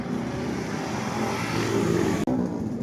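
A motorcycle engine running without oil, idling loud and rough with a steady mechanical clatter for a few seconds, close by, then briefly cutting out before resuming.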